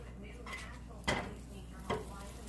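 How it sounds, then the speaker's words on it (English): A grilled cheese sandwich is flipped over in a pan on low heat, giving two brief scraping, sizzling thumps about a second apart over a quiet kitchen background. "First I'm going to flip Gavin's sandwich right here."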